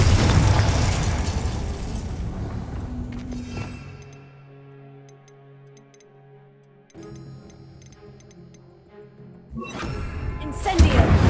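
A Confringo blast spell fires in Hogwarts Legacy, a loud burst that fades into a tonal ringing tail and chimes before another heavy rush of blast noise near the end.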